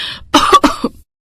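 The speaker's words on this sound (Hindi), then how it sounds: "धुआं उठा तो उसकी आंखें लाल हो गई और खांसी भी उठने लगी।" A woman at a wood-burning cooking fire coughs from the smoke, giving three or four harsh, close coughs in quick succession that then stop abruptly.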